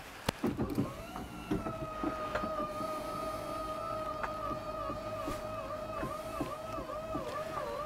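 An electric motor lifts the bed in an Itasca Viva 23L motorhome, giving a steady, close whine that holds for several seconds with slight wavering in pitch and a few faint clicks.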